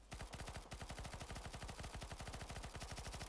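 Rapid automatic rifle fire in Counter-Strike: Global Offensive, a long unbroken burst of evenly spaced shots that carries on loud and close for the whole stretch with no voices over it.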